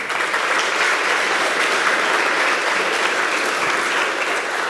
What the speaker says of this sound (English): Applaud the speaker.